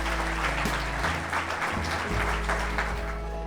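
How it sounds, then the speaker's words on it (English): Big round of applause from the audience at a jazz club, dense steady clapping filling the room at full strength without letting up. "can we get let's get a big round of applause"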